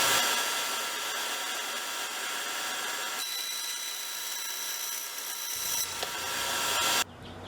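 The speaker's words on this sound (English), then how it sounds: "I've oriented the wood as to how it's going to run through the bandsaw" Blocks of wood being cut on a bandsaw for HO scale lumber loads: a continuous nearby saw whine with rasping cutting noise that shifts as the blade works through the wood, then drops off at the end.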